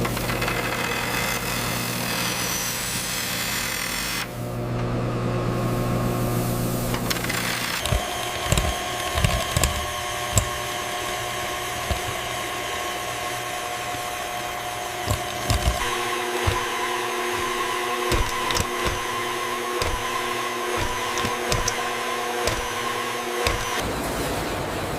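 A large industrial hot dog factory machine spins at 5,000 RPM to emulsify meat, giving a steady loud mechanical roar with rattling, knocking transients throughout and no talking.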